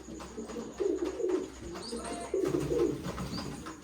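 Pigeon cooing close by, two low throaty coo phrases about a second and a half apart, with faint background noise and a few distant chirps.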